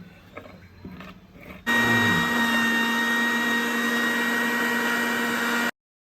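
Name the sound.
mixer grinder running while making homemade ghee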